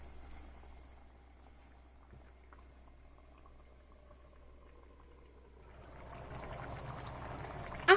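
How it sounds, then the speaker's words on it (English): Chicken and water boil in a covered pot for a one-pot fried chicken and basmati rice dish. A quiet, steady bubbling simmers along, then swells fuller and louder for the last couple of seconds. "Cover and let boil for about 20 minutes."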